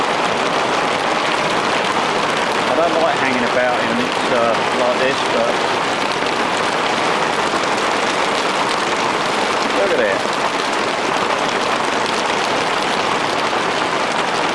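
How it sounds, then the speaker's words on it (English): Heavy rain pours during stormy weather, a dense continuous hiss of drops drumming on surfaces near a car, while someone talks over it throughout. "I knew we were going to get rain this weekend, but I didn't think it would be like this."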